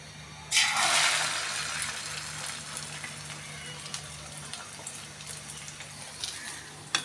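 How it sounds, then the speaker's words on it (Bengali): An egg frying in a pan, a steady close sizzle that begins with a loud hiss as it hits the hot oil, then settles into a softer, even crackle with a low hum underneath. "ডিমটা ভাজি করতেছে"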